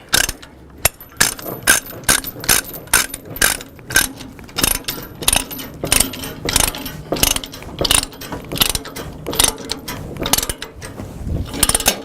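A ratchet binder being worked to tighten a 3/8 chain securing heavy equipment on a trailer, with rapid repeated metallic clicks and clanks in an uneven rhythm, close and fairly loud, continuing throughout.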